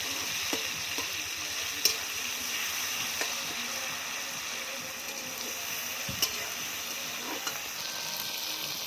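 A paste of ginger, cumin, dried red chilli and green chilli fries in a pan with a steady, close sizzle. Occasional light clinks of stirring sound through it, and nobody speaks.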